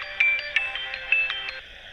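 A phone ringing with an incoming call, a bright electronic ringtone pulsing in quick repeated beeps and chirps, moderately loud and close, with no talk over it.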